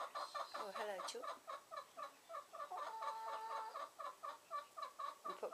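Backyard coop chickens cluck in quick repeated bursts, close and fairly quiet, with a louder squawk near the start and continuous clucking throughout.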